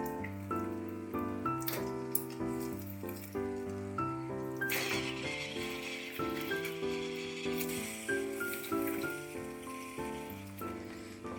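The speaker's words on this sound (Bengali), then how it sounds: "মশলাটা হালকা করে কষিয়ে নিয়েছি, এবার এতে চিকেনগুলো দিয়ে দেব।" Chicken pieces are dropped into hot, sizzling masala in a pan for a Bengali chicken curry. A loud hiss surges partway through and keeps crackling steadily under background music.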